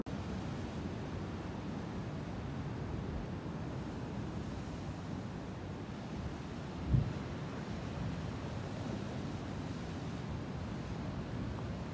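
Steady roar of strong ocean surf washing in continuously, broad and noisy like wind over the sea, with one brief thump near the end; no voices.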